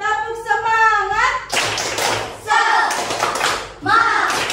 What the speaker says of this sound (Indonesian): Kalian tepuk semangat.